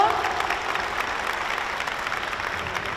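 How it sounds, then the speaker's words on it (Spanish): A crowd of newly sworn-in vaccination volunteers in Lima claps together, a dense, even patter of applause holding steady for a few seconds, with possible faint voices mixed in. "Un aplauso, por favor."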